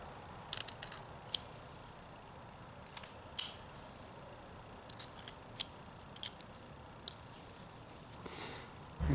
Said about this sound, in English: I'm gonna take my knife, and you want to be careful. You don't want to put too much pressure, and just cut little